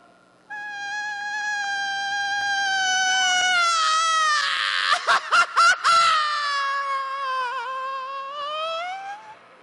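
A voice imitates a long, sustained scream, one loud, unbroken wail lasting nearly ten seconds, briefly broken by a few rapid stutters midway before trailing off.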